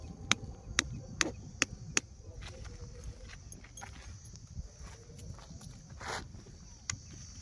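Several sharp knocks from metal pegs being hammered into the ground while pitching a tent at a campsite beside a newly dug pond, spaced irregularly at first, then fainter scattered taps over a low, windy outdoor background.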